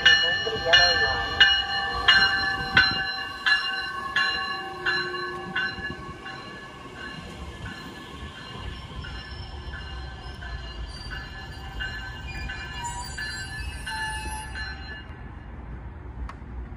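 Metra Electric train pulling into the 95th Street station, its rail noise and a steady run of evenly spaced tones fading as it slows; a station announcement plays over it.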